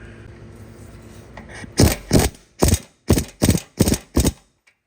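Ratcheting wrench tightens a transmission filler tube on a Ford truck, giving seven quick, close clicking bursts in an uneven rhythm after a quiet lead-in, with no one talking.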